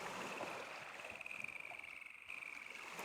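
Quiet Half-Life 2 menu-screen ambience by water, with soft wind and wave wash, faint insect and bird chirps, and a steady thin high tone running underneath, with no voices.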